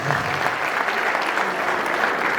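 An audience at a church album-launch celebration applauds continuously, a steady, even wash of many hands clapping for a couple of seconds with no pauses or voices standing out.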